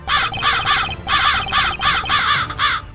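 A human voice imitates a crow, giving about seven loud, nasal, close caws in quick rhythmic groups.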